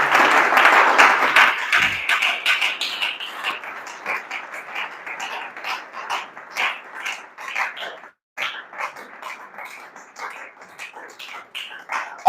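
An audience claps and cheers at a ceremony, a dense round of applause that starts loud, then thins into scattered claps with a brief gap before picking up again.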